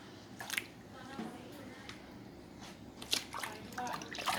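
Fish being washed by hand in a basin of clean water after the gills are removed, with soft splashes, drips and squishy handling noises in short irregular bursts, fairly quiet and close.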